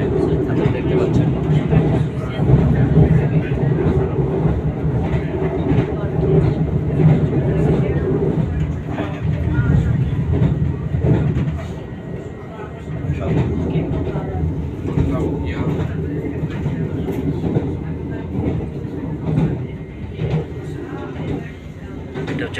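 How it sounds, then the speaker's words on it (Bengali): From inside an electric train running at speed, a continuous low rumble and rattle of the carriage runs throughout, and a person talks over it. "এটা ইলেকট্রিক ট্রেন। হ্যাঁ, খুবই দ্রুতভাবে চলছে।"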